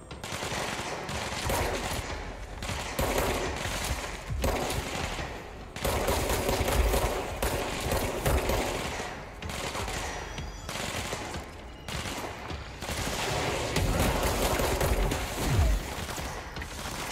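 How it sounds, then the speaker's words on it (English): Rapid bursts of automatic gunfire and mechanical clatter from the video game Control, loud and nearly continuous, with short pauses between volleys. "You shoot them too"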